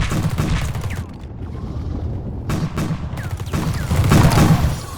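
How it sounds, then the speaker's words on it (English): Rapid gunfire and explosive booms from a grenade launcher in the video game The Red Solstice, loud and continuous with bursts swelling toward the end. "So if I click the grenade launcher now, I can use that to blow it"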